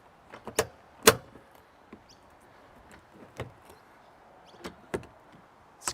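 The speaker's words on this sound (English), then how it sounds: "fix your latches on" Latches on a Jervis Pro rooftop tent are fastened with a series of sharp, separate clicks and clacks, a few louder snaps among softer taps, close and isolated against quiet.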